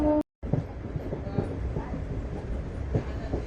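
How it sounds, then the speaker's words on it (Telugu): A MEMU passenger train rolls slowly onto a loop line, its wheels clicking rhythmically over track joints and switches in a steady, close rumble after a brief cut at the start. "మన ట్రైన్ అయితే మెల్లిగా ట్రాక్ చేంజ్ కూడా అయిపోతుంది"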